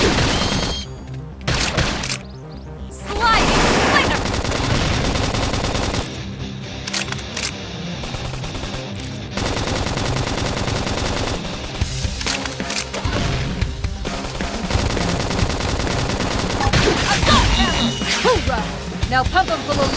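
Rapid bursts of gunfire crackle through a shooter video game firefight, dense and loud, mixed with sharp impacts, music and game noise, while a voice talks over the action.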